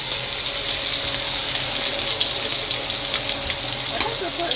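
Scallops sear in a hot, smoking pan, giving a steady loud sizzle and hiss with small crackles, close up.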